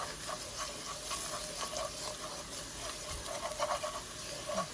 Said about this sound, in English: just stir that up and get it mixed up with the onions